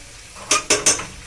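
Stir-fried chicken chow mein being tossed in a pan, three quick scraping, rustling stirs in close succession over a low sizzling background.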